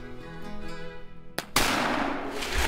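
A muzzleloader rifle fires with a hang fire during an Ohio deer drive hunt, a brief crack and then a loud sustained roaring blast that carries on outdoors.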